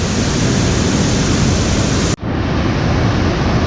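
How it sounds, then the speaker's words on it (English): Waterfall at Center Falls on the Lady Evelyn River in Temagami, heard as a steady, loud broadband roar of rushing water that briefly cuts out partway through, then resumes. "What an incredible waterfall."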